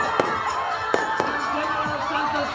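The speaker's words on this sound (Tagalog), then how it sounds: "Nagliwanag naman ang kalangitan sa magarbong fireworks display." Scattered fireworks pop and crack at a distance over a steady background murmur of a crowd.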